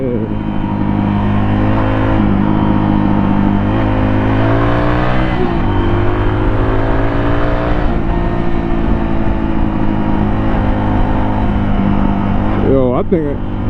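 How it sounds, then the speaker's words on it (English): A Suzuki DR200 motorcycle engine revs hard and steadily on a road, its pitch rising and falling close by with constant wind rush and no clear talk. "My bike is screaming, but it's screaming under the covers"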